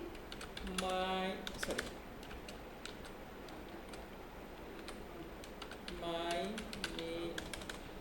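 Code is typed on a computer keyboard in quick rapid bursts of clicking keys, with near-silent gaps between the two main runs and faint low hum underneath.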